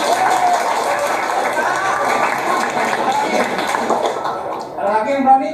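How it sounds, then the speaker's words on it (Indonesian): A classroom of students bursts into applause, a dense sustained patter of many hands clapping together at close range that fades slightly near the end. "Oke, tepuk tangan."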